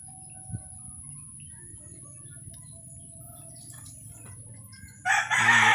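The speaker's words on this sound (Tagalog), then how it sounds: "Bali may mga alaga kaming manok guys." Quiet background with a brief cluck early on, then a loud rooster crow bursts in near the end, close by.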